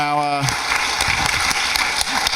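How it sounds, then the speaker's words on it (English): A voice trails off, then a panel discussion audience breaks into steady applause, many hands clapping together at moderate volume. "I think round of applause definitely for our sponsors."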